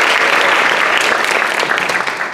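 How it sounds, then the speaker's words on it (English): Loud, sustained applause from a concert audience at a Cairn University choir performance, honoring Dr. Benjamin Harding; steady dense clapping throughout that tapers slightly at the end. "big hand clap to Ben Harding"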